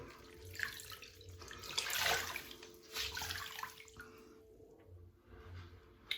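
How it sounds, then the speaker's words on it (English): A rag is rinsed under running tap water in a bathroom sink, with gurgling splashes and squishing that swell and fade over several seconds, close and fairly quiet with no speech. "Let's rinse the rag"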